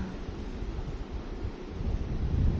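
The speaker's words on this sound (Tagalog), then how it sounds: "Napakalakas ng hangin dito" Strong wind gusts at a motorcycle campsite in San Nicolas, Pangasinan, a rough continuous low rumble of buffeting against the microphone that swells louder toward the end.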